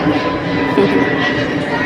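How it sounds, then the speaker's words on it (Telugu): An airplane passing overhead during a family gathering, a low continuous engine drone running under people talking nearby. "పైన ఫ్లైట్ వెళ్ళిపోతుంది"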